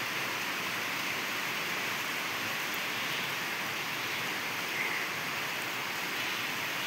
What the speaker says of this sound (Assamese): ছাগলী খেদা বৰষুণ, ডাঙৰ বৰষুণ নহয় আৰু।